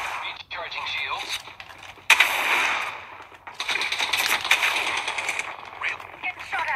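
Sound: gunfire in Apex Legends video game

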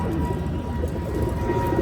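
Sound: pigeons at Dipok's house

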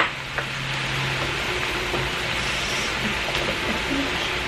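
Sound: taco filling with spices and onions frying in pan

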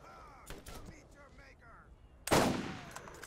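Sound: gunfire in video game Borderlands

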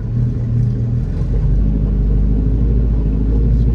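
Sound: 1930 Bentley Speed Eight engine idling

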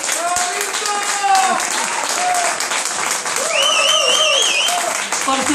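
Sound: audience applause

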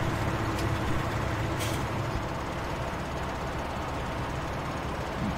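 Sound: truck arriving in Farming Simulator 17 video game

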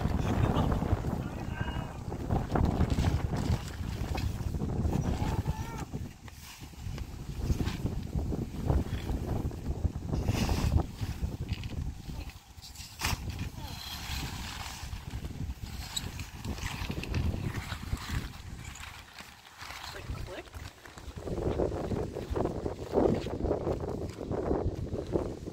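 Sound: wind

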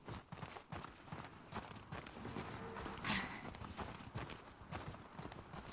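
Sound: horse hooves clip-clopping, The Last of Us Part II video game

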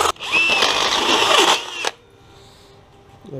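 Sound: step drill bit drilling metal

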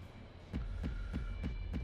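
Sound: heartbeat sound effect in anime episode

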